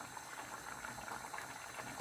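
Chicken Bicol Express sauce with green chilies boils uncovered in a pot, a faint, steady bubbling simmer with soft irregular pops.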